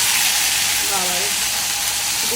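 Spices sizzle steadily in hot oil in a home kitchen, a loud continuous frying hiss throughout.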